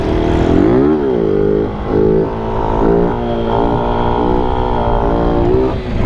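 A Honda XR motorcycle engine revs loudly and close, its pitch climbing and dropping in repeated throttle blips and sustained revs throughout, with no talking.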